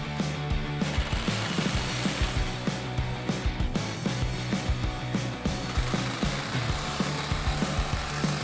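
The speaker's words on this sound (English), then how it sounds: "We're going to use an 18mm socket to remove the nut from this backside and the bolt from over there." An 18mm socket wrench ratchets steadily on the nut and bolt of a steering stabilizer on a 2007-2018 Jeep Wrangler JK, a rapid train of close metallic clicks repeating in bursts throughout.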